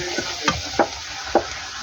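Luchi frying in hot oil gives off a steady, soft sizzle, punctuated by three or four sharp taps and stirring scrapes. The sound is close, with no talk.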